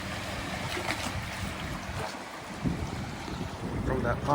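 Wake waves from a passing pontoon boat wash in at a windy lake. The surf sloshes steadily over wind noise on the microphone, with brief talking.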